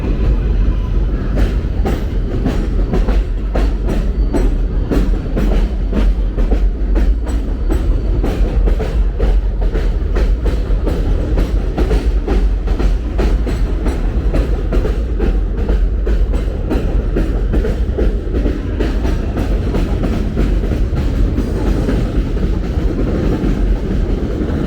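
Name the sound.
elevated 7 subway trains passing overhead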